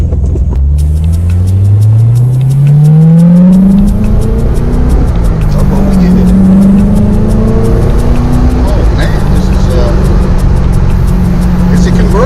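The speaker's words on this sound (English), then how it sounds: "You can even hear the exhaust more." A car engine and exhaust with the top off, accelerating with rising revs and a loud rumbling drone, heard from inside the open car over steady wind noise.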